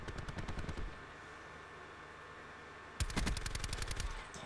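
The Hades gun fired from the hip in the video game Black Ops 4: two rapid, rattling full-auto bursts, one at the start and a louder, closer one after a short pause.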